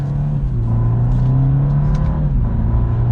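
A 2023 BMW 230i accelerates hard, its engine a loud steady drone heard from inside the cabin, with a brief dip in pitch at a gear shift before the pull resumes.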